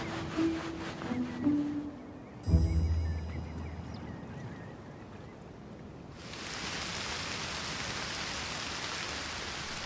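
Heavy rain on a wetland sets in after several seconds of quieter, scattered sounds, then holds as a steady, dense hiss of falling water that continues to the end.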